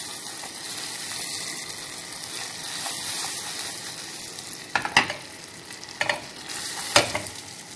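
Butter stirred into hot browned sugar for toffee caramel, a steady frying sizzle with scraping stir sounds and a few sharper spatters near the end.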